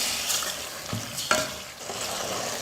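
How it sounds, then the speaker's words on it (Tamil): Mutton pieces fry in hot oil with ginger-garlic paste for a goat head curry, a close, steady sizzle broken by several scraping stirs of a spoon against the pan. "எல்லாம் நல்லா கலந்துட்டு ஒரு 5 நிமிஷம் எண்ணெயிலே வந்து மட்டன் நல்லா வேகணும்."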